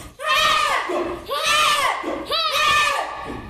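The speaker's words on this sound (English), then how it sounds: "left foot, left hand, and one loud yell, ready, punch, kick" A group of kung fu students, including children, give three loud unison yells on punch and kick commands, each burst about a second long with short pauses between.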